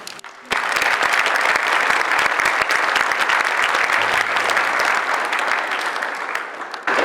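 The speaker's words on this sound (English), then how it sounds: "Please join me in giving one more round of applause for these helpers." Loud, sustained applause from a large crowd, dense clapping starting abruptly and continuing steadily for several seconds.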